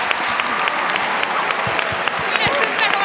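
A library audience at a book talk claps loudly and continuously, a dense crackle of many hands close by that holds steady throughout, with a few voices briefly audible over it.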